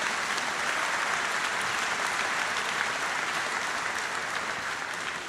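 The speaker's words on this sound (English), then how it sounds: "That's worth some applause." Sustained, even applause from a crowd at a commencement ceremony, a thick continuous wash of clapping with no pauses, easing slightly toward the end.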